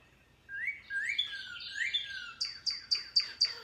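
A male songbird in late-winter snowy countryside sings a bright whistled song, rising slurred phrases followed by a quick run of repeated sharp notes, clear and fairly near with no talk.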